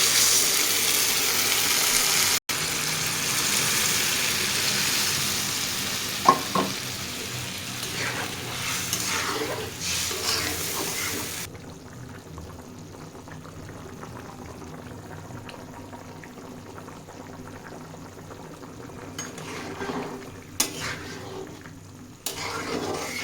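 Water poured into a pan of taro cooked down with eggs sets off a loud, steady hiss of boiling and sizzling, which softens into a quieter bubbling simmer about halfway through, with a few clinks near the end.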